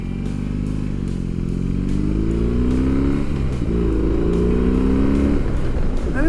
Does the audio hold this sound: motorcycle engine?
yes